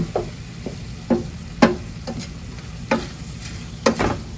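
Food being stirred in a hot pan, with soft sizzling underneath and a series of distinct scraping strokes of a utensil against the pan at irregular intervals, close by with no talking.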